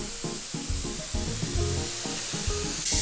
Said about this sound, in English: Let's spray some.